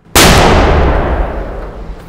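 A shaped charge holding 0.3 pounds of RDX detonates against a plate with one sudden, very loud close blast, its roar and rumble decaying over about two seconds, no voices.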